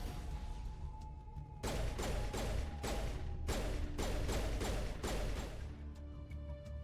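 Repeated grenade blasts from the Mass Effect video game, a run of sharp explosive bursts that crack and rumble one after another over a steady background hum, fairly close and loud.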